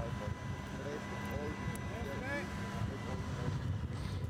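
Formula V8 3.5 race car engines start up on the grid at Paul Ricard, a layered, droning engine rumble with a few rising revving tones, while a commentator talks over it.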